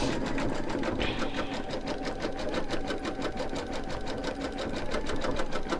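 An embroidery machine stitches a bicycle-with-hearts design, its needle chattering in a fast, steady rhythm that runs continuously at close range with no talk over it.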